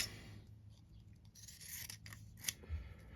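Scissors trim buckram and ribbon for a ribbon bar, giving a few quiet, close crisp snips and rasping cuts in an otherwise hushed space.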